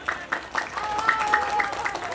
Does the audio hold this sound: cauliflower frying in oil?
no